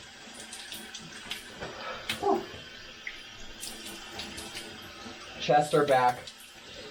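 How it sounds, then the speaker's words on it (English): Cold shower water running steadily in a home bathroom under a voice that exhales and talks, with broadband spray continuing throughout and louder splashing bursts near the end. "I want to try to get the cold water everywhere."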